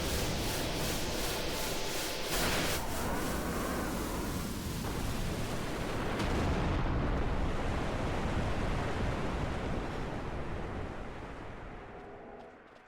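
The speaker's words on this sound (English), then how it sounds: "The worm disintegrates and we'll have the victory fanfare." In the Final Fantasy XII game, the Hell Wyrm boss disintegrates with a long, loud, rushing roar of noise that swells and churns for several seconds before thinning and fading out, with no voices.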